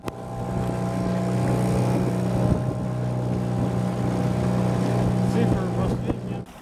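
A homemade sailboat built by a resident of Slavyansk-na-Kubani moves on the water, giving a steady, loud, close drone with wind buffeting the microphone throughout.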